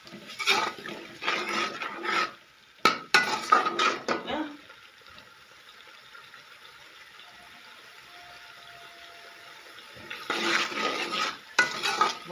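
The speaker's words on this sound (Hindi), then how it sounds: "थोड़ा पानी लाया, अच्छी तरह बुनाई करूंगी।" A spoon scrapes and stirs spiced masala with added water in a pan, loud bursts of scraping at the start and end with a quieter bubbling simmer in between, with someone speaking over it at times.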